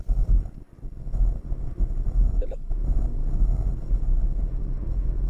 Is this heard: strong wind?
yes